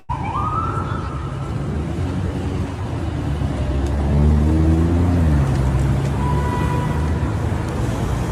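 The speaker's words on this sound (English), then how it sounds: "Traffic, horns, people yelling obscenities" Continuous New York street traffic with a rising and falling police or emergency siren wailing over a steady rumble of vehicles, dense and loud throughout.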